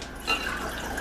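Lukewarm water is poured in a brief, soft trickle, about six ounces for proofing yeast, close by and fairly faint.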